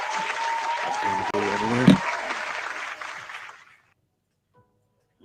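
Applause from a small group at an RC model flying session, brisk and steady for about three and a half seconds, with a brief spoken word over it, then cutting off into near silence.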